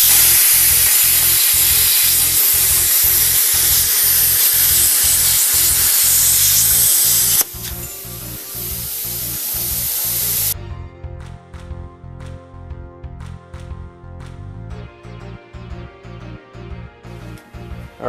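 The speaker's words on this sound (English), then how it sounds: "I'm just going to cut out this first little nick off the top of the blade" Cutting a notch from the top edge of a steel gunblade blade with the ground clamp attached produces a loud, steady hiss over a regular rhythmic pulse, then gives way to a quieter hum with sharp intermittent clicks.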